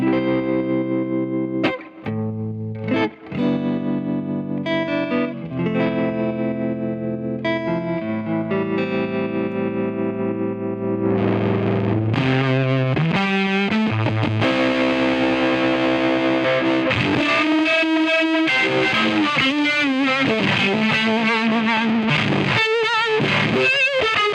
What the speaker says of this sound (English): engaging the tremolo circuit on the Fender amp